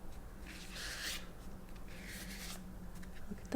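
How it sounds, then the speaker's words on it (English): Tarot cards given a gentle shuffle, soft papery rustling in two brief swells, close and quiet, with no talk. "after I give the cards a nice gentle shuffle."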